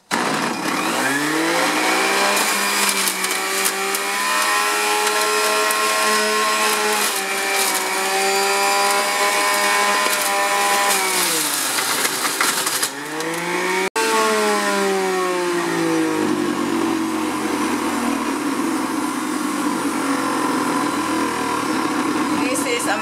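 A loud juicer motor whines and grinds steadily up close, its pitch sagging and recovering as beet greens and celery are pushed through.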